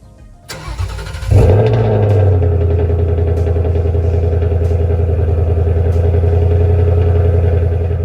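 A Porsche engine cranks and catches, then settles into a loud, steady idle with a rumbling, slightly clattery tone that holds evenly for several seconds.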